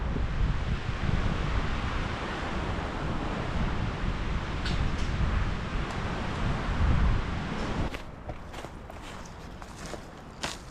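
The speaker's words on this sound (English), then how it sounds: "this wind is going to shut down any burning today" Strong wind roars outdoors on a brushy homestead, a loud, continuous gusting rumble buffeting the microphone for most of the stretch before easing, with crunching footsteps audible toward the end.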